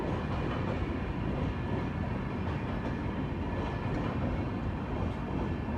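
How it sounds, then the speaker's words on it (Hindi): The Mahanagari Express passes close by at Chunar station on the main line, a steady, loud rumbling roar of rolling wagons that holds for the whole stretch with no voices over it. "तो महानगरी एक्सप्रेस आ चुके हैं सामने।"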